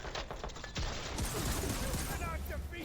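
Heavy cannon in Horizon Forbidden West: Burning Shores firing in rapid bursts, dense crackling blasts and impacts over a busy battle din, fairly loud and close with mechanical clatter mixed in.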